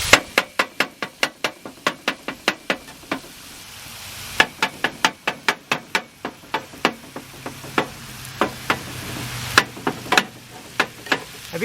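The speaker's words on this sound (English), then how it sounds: "Do some more choppy chopping." Cheesesteak meat is chopped on a cooktop with rapid, sharp repeated knife or spatula strikes, a long steady series of close, crisp chops with a few brief pauses and a soft background sizzle.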